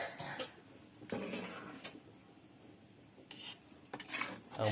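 A spoon stirs village kola fish curry in a metal pot. There are scattered clinks and scrapes against the rim and a clatter near the end as the lid goes on. The sounds are fairly faint.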